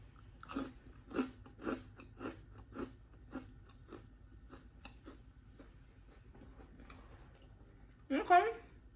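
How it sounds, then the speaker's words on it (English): Someone bites into crunchy food and chews it close to the mic, making a run of sharp, regular crunches that fade into softer chewing. Louder noise comes near the end. "Y'all heard that crunch?"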